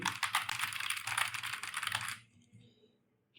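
Rapid, close typing on a computer keyboard while entering text, a dense run of clicking keystrokes for about two seconds before it stops abruptly into near silence.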